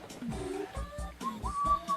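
Someone whistles a short melody up close, sliding between notes in a lilting tune, with soft thumps and rustling underneath.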